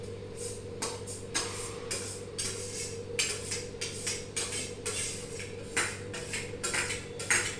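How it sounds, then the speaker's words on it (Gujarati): Cooked basmati rice being tipped into a pot for vegetable biryani, with repeated scraping and clinking of a metal spoon against the pot in irregular bursts over a steady low kitchen hum, no talking. "આ બાસમતી રાઈસ આમાં નાખી દઉં છું."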